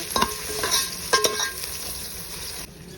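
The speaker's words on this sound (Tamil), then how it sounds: "அதில் ஒரு 2 கைப்பிடி அளவுக்கு புதினா இலையை சேர்த்து ஒரு 5 செகண்ட் வதக்குங்க" Mint leaves stirred into sautéed onions for beef biryani sizzle in hot oil, with scraping spoon strokes at a couple of moments over a steady frying hiss, close and without talk.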